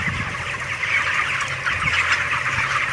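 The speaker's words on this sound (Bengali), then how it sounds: "মুরগিগুলো একদম অস্থির পাগল হয়ে গেছে খাওয়ার লাগে" Many hungry chickens cluck busily together at close range, a restless continuous chorus of squawks and clucks.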